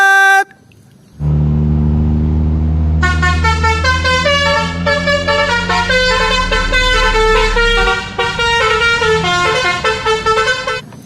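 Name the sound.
toy bus telolet horn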